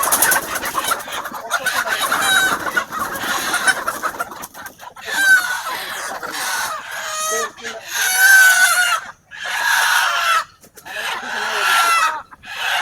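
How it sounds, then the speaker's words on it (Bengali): Broiler chickens in a farm shed cluck and squawk loudly and continuously as they are grabbed by hand, with agitated cackling bursts and brief pauses, close by. "হৃদয় আর সাদেক যাচ্ছে মুরগি ধরার জন্য, তারা মুরগি ধরাটাই কষ্টকর।"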